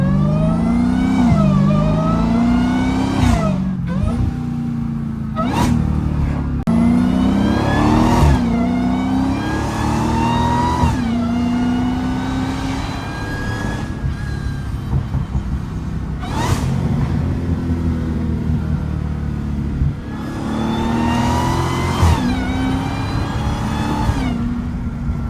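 Dodge Hellcat V8 engine, driven with the hood off, roars loudly and up close through repeated hard accelerations, its pitch climbing in sweeps and dropping sharply at each gear shift, with a steady rumbling undertone and no talking.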